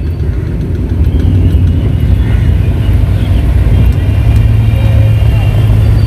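A 76–77-year-old vintage Italian car's engine runs smoothly on a rally drive in Howrah, with a steady, loud low rumble throughout and no speech.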